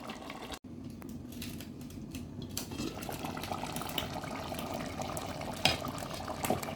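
A pot of beef curry with potatoes, water just added, simmering quietly with soft bubbling, faint clinks of a spoon or utensil against the pot, and a sharp knock near the start.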